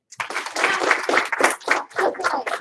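A class of children clapping for a classmate in a rhythmic, uneven burst of about a dozen claps, close and moderately loud, with no talking over it.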